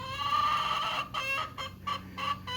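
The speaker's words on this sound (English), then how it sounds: "my noisy chicken" A backyard hen clucks and gripes in a run of close, loud, raspy calls, several short squawks following one another with no talking over them.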